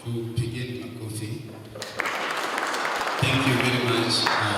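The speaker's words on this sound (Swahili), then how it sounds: "Tupigeni makofi." A church congregation at a memorial service bursts into applause after a short stretch of someone talking, and the dense clapping holds steady to the end.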